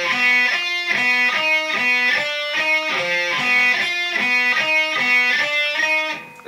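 Electric guitar playing a beginner version of a riff, a loud, steady repeating pattern of short, evenly timed picked notes, alone with no talking.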